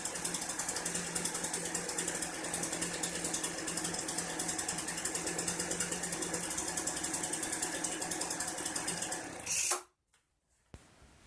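Poulan leaf blower engine running on a cold start, a steady rapid mechanical buzz with fast rhythmic pulsing that cuts off abruptly near the end, followed by near silence.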